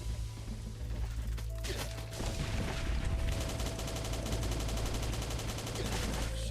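Grenade launcher fire in the survival video game Last Day on Earth, a dense barrage of sharp shots and blasts layered with rapid gunfire, growing busier after a tone sounds partway through.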